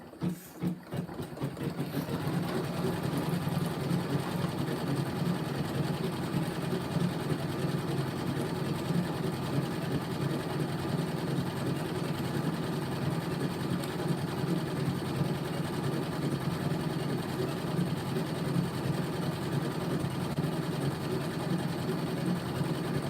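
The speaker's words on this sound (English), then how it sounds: "now this is going to sew a green edge around the black" A sewing machine stitches a green edge around black thread, running as a steady, even mechanical whir that holds at a constant pace for over twenty seconds without talk.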